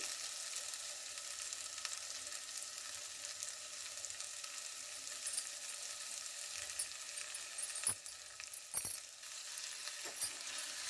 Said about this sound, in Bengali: এবার আমি কেটে ধুয়ে রাখা শাকগুলো দিয়ে দিচ্ছি